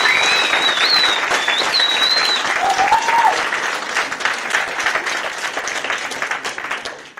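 An audience applauds a graduating class at a virtual academy graduation ceremony, with steady, full clapping that continues throughout and tapers slightly near the end, while a few whistles rise above it.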